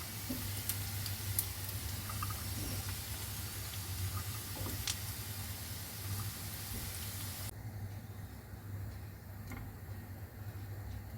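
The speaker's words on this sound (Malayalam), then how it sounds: "നമ്മൾ വറുക്കാനായിട്ട് വെച്ചിരിക്കുന്ന ചിക്കൻ ആയിട്ടുണ്ട്." Chicken fries in hot oil for puttkutti biriyani, producing a steady, faint sizzle with occasional ticks and crackles that continues evenly throughout, with no talk.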